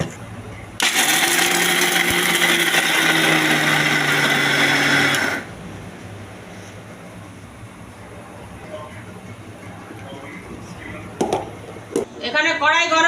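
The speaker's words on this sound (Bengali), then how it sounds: "এবারে এই কাজুগুলোকে আমি এখানে পিষে নেব, জল ছাড়া এটা বাটতে হবে, একদম ফাইন পেস্ট করে নেব" A grinder pulverizes cashews dry into a fine paste for kaju barfi, a loud steady whirring burst of about five seconds, followed by quieter kitchen noise and a few brief clatters near the end.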